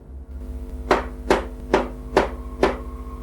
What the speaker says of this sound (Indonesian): Lalu terdengar ketukan pelan dari arah gudang kitab.